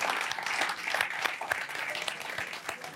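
Audience clapping at an Eid special stage show after a man's dance, a steady dense patter of many hands with a few sharper claps standing out.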